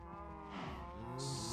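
Blocky Minecraft cows give low, drawn-out moos, fairly faint over a steady game background, in a survival world with a pen of cattle.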